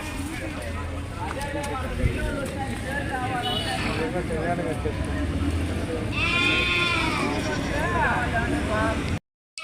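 Goats bleat amid a crowded sheep and goat market in Kanigiri, Andhra Pradesh, their wavering calls rising over steady chatter and crowd noise, with a clearer, louder bleat near the end.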